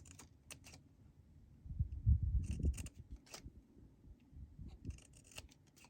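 Scissors trim a strip of fabric with a few quiet, close snips and soft crisp cuts, some in quick clusters, in an otherwise hushed room.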